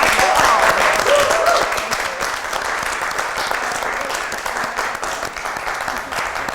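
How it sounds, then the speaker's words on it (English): A crowd applauds loudly and steadily, dense clapping that eases slightly after the first couple of seconds and continues throughout. "Let's give a big global round of applause to Celeste Olds and Michael Olds."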